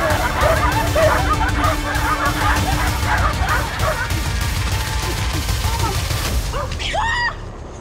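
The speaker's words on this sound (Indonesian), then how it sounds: "Tiba-tiba dari kejauhan terdengar gonggongan anjing." Several dogs bark and yip in an excited, overlapping chorus during a hunt with the Moi people in the forest. Whimpers and a rustling commotion run underneath before the noise drops away at the end.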